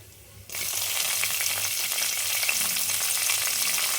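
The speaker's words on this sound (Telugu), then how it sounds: "ఇప్పుడు ఇందులో పచ్చిమిరపకాయలు వేయాలి" Green chillies hit hot coconut oil already frying chana dal and mustard seeds for poha upma, and after a brief quiet half second a loud, dense sizzle bursts up and crackles steadily to the end.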